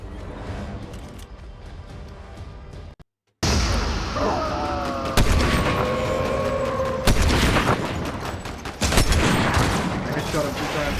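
Gunfire rings out in a chaotic Sesame Street–themed shooter game, with loud bursts and booms after a brief silence and sharp reports hitting at intervals over a rumbling, busy background.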